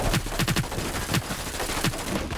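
Rapid bursts of gunfire in the online shooter Hyper Scape, several sharp shots spaced unevenly over a steady game background, loud and close with no talking.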